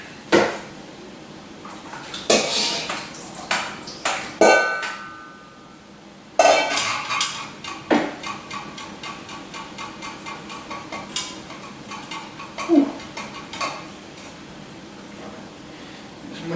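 Ceviche in a bowl being drained of its juice, with intermittent clinks and knocks of bowl and utensils and short liquid pours between quieter pauses, close and uneven.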